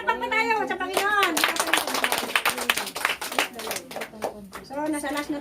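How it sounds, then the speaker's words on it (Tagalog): Churchgoers clap in a quick burst of applause while a voice keeps talking and singing over it, the claps sharp and close for a few seconds. "Pumalakpak pa tayo sa Panginoon."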